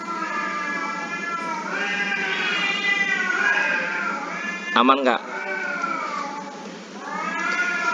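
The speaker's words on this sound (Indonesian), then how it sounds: "Kucing siapa yang kelahi?" Cats fighting, with drawn-out yowling and caterwauling and a sharp hissing scuffle partway through, loud and close, while a person speaks briefly.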